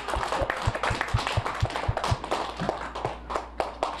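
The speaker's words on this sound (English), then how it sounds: "can we give her one more round of applause?" A class of students in a classroom gives their Teacher of the Week another round of applause, a fairly quiet, loose patter of hand claps with a few sharper thuds standing out, steady throughout.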